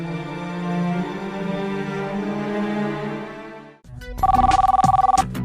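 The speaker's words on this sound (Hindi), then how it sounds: "देखता हूँ दीपिका का फोन होगा।" A telephone rings in a Hindi comedy-horror sketch: a loud electronic ringtone cuts in after a few seconds of sustained musical tones and repeats in a fast, steady pulse, close and clear, with no voices.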